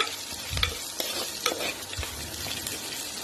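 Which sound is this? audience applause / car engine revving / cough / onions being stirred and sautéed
onions being stirred and sautéed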